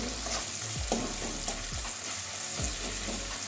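Tomato spice paste fries in a pan for a cabbage, carrot and egg curry, a loud continuous sizzle close up with a few soft stirring scrapes.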